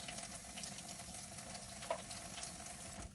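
Sausages frying in a pan give off a steady, close sizzle and crackle that holds evenly throughout, with no voices.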